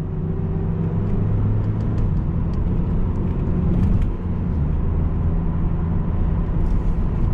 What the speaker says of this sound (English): Listen to the motor for a bit.